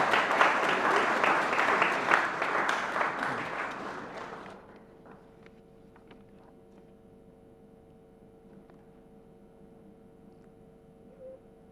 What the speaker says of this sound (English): Please, a round of applause for Mr. Joe Manson.